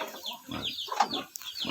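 A sow grunts several times close by, short rough snorts in an uneven rhythm.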